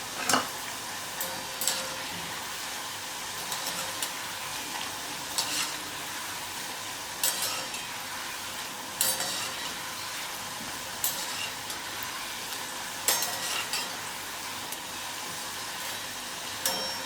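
Raw banana slices frying in hot oil for Gujarati banana chips, with a steady, close bubbling sizzle and repeated scraping stirs of a spatula running through the pan, no voices.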